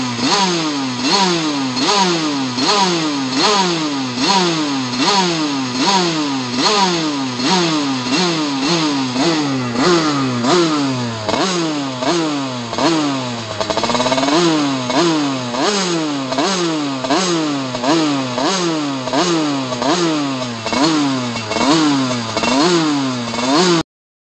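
A moped engine fitted with an 88 Big Racing kit revs hard and continuously, its high buzzing note climbing and dropping in rapid repeated sweeps, loud and close with no talk over it.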